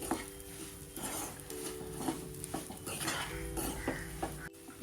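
A gundar sukhdi mixture stirred in a metal pan after dry ginger powder is added, soft repeated scraping and clinks of a spoon against the vessel, faint and close with a low background hum.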